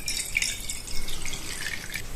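Honey water is poured from a cup into a deep plate: a short, close, continuous trickle and splash of liquid lasting about two seconds, with bright dripping tones and no voices.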